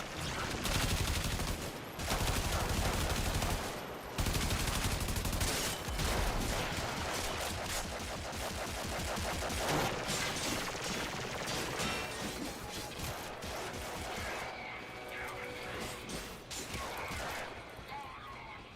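Gunfire in the Guild Wars 2 video game pours out as dense, rapid automatic bursts, loud and nearly continuous, with heavy impacts early on and a slightly thinner stream of shots later.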